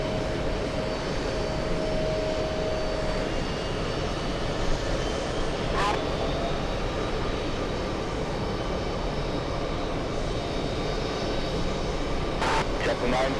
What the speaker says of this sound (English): Ein großes Flugzeug